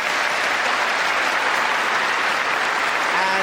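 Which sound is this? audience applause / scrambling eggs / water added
audience applause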